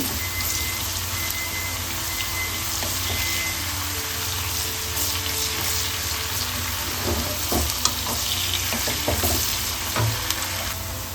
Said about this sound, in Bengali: ক্যাপসিকামটা একটু নেড়েচেড়েই নামিয়ে দেব